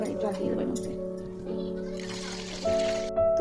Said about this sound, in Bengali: এবার জল দিয়ে দেবো মধ্যে।